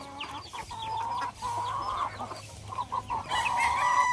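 Native chickens on a rural Philippine farm clucking and crowing in a steady, busy chorus, several birds close by with repeated calls throughout and no talking.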